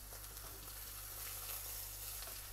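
Chicken sizzles steadily in a hot pan, a soft, even frying hiss with small crackles throughout and no talking.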